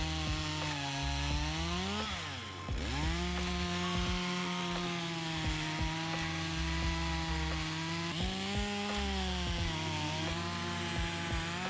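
A chainsaw cuts a notch in the bottom side of a tree, its engine roaring loud and close throughout, pitch shifting as it bogs into the wood, with a brief dip in revs before climbing again.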